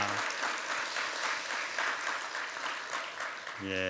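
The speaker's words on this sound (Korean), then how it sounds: "우리 수료하신 분들 다시 한번 우리 크게 격려의 박수, 축하의 박수 올려드립니다" Congratulatory applause from a church congregation at a faith-training graduation ceremony; a steady wash of many hands clapping, with a voice cutting in at the very end.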